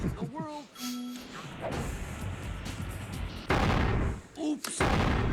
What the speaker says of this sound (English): after the explosions go off, the NPC character goes, oops